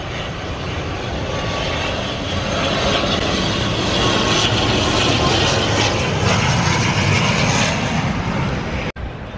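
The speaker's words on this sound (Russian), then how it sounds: "О, с пропеллерами летит такой. Не с джетом, а с этим." An old propeller airplane flies over a beach at Mai Khao, Thailand, its engine drone loud and steady throughout, swelling slightly midway, with surf-like broadband noise beneath and no talking.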